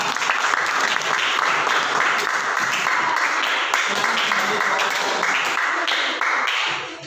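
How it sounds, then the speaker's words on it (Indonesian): A classroom audience gives a group sustained, dense clapping that holds steady for several seconds before tapering off at the end. "Aplaus untuk kelompok 2."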